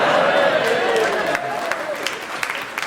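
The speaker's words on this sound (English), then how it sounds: "I think they clapped because they thought we were going to do it." A studio audience claps and murmurs at a radio panel comedy show, a broad steady wash of applause that thins out toward the end.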